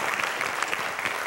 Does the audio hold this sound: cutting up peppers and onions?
no